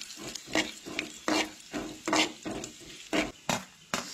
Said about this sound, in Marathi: सगळ्यात पयली हांगसर बडीशेप हांव ऍड करता